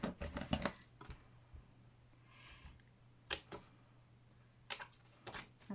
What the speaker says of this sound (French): ici, nous allons couper nos petits carrés du bas